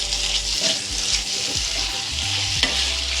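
Cluster beans (gawar pods) sizzle and fry steadily in a pan, with occasional stirring scrapes, loud and close throughout.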